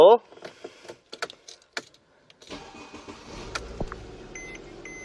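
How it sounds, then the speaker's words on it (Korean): Mercedes-Benz E300 Elegance, a fourth-generation E-Class, starting from inside the cabin: light clicks and key or interior noises, then the engine catches and settles into a soft, smooth idle hum, with faint beeps and a little talk. "확실히 지금 시동 소리도 정말 부드럽게 잘 걸리는 모습 볼 수가 있고요"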